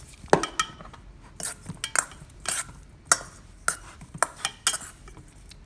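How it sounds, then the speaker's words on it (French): A spoon stirs marinated potatoes in a dish, making irregular clinks and scrapes of metal against the dish, quiet and close with short pauses between strokes, and no talk. "Vous pouvez mélanger à la cuillère ou en secouant le plat."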